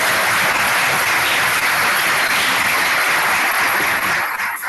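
A township committee meeting audience gives a round of applause for a coach, a dense, continuous wash of clapping filling the room at steady volume, fading slightly at the very end.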